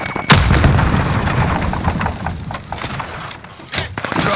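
A frag grenade detonates in the shooter game Warzone: a loud, close, booming blast with a rumbling tail, followed by further sharp bursts of gunfire and a second heavy thump near the end.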